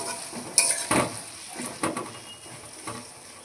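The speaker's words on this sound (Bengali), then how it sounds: "আলুগুলোকে একটু ভেজে নেব।" Potatoes frying in oil in a pan during home cooking of a bhetki fish-bone dish, with a few sharp metallic clatters of a spatula against the pan over a soft, steady sizzle.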